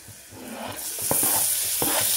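Tomatoes frying in a pan for khichdi are stirred with a spoon, a soft sizzle building under a few scraping stirs and light taps over about two seconds, close by and without talking.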